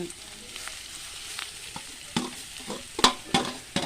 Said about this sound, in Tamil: இப்போ வந்து நாங்கள் பீட்ரூட்டை போட்டு வதக்க போகிறோம்